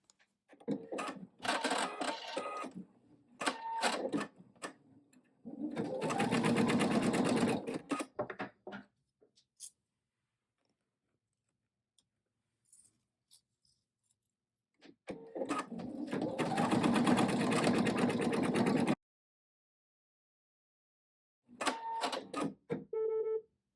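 An embroidery machine sews the placement stitch for a flower on an in-the-hoop mug rug. It runs in bursts of rapid mechanical stitching with clicks and brief pauses, and long silent gaps fall between the runs.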